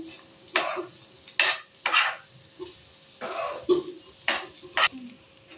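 A spoon scrapes through potatoes with asafoetida and ginger in a pan, making scattered short strokes against the metal. The strokes are close but soft, with quiet gaps between them.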